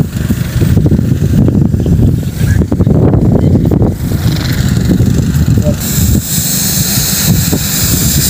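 A motorized crop sprayer engine runs loudly in a windy chili field, a rough continuous drone with wind buffeting the microphone and voices talking over it at times.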